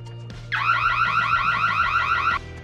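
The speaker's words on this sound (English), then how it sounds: "This HD floodlight camera has motion detection and a powerful alarm." An HD floodlight security camera's motion-triggered alarm blares for about two seconds, a loud warbling electronic siren that starts abruptly, holds steady, then cuts off over a low background hum.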